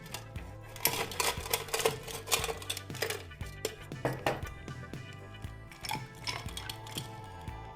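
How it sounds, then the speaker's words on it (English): Ice cubes for a tequila and Aperol Negroni-style cocktail clink and rattle into a glass, a quick irregular run of bright, close knocks with no talking. "Now we need ice."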